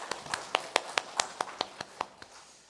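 Claps ring out at a Sunday church worship service in Korea, about a dozen distinct, evenly spaced slaps in a steady rhythm, fairly quiet and slightly reverberant, with no talking over them.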